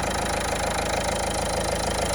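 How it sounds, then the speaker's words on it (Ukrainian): A 2014 Renault Clio with a 1.5 diesel engine idling under an open bonnet, a steady, even, low diesel clatter heard up close and unbroken for the whole stretch, with no talking. "двигун працює тихо, рівно, так як має працювати дизельний двигун"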